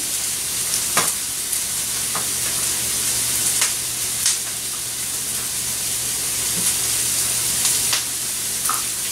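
Jam cooking down in a pan, a steady sizzling bubble and hiss with occasional pops and faint stirring clicks, close and constant.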